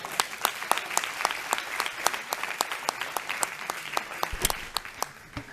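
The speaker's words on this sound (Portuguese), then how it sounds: "Salva de palmas aqui pro Martins." An audience at a business event in Lisbon claps steadily and briskly throughout, a dense, close round of applause with no voices standing out.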